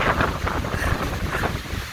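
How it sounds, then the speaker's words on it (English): Strong gusty wind buffets the microphone at a South Dakota campsite as a thunderstorm approaches, a continuous low roaring rumble with surging gusts and no voices. "You can probably hear the wind behind me picking up."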